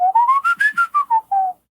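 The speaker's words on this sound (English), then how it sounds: "So if I'm able to whistle," A person whistles a short rising-then-falling melodic phrase of about eight clear notes, close and loud, alone with no talk.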